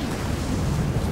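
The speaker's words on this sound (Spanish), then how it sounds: "¡Vaya ventarrón!" Strong gust of wind in the video game Rise of the Tomb Raider, a broad continuous roar of rushing air with low rumble, steady and loud with no break.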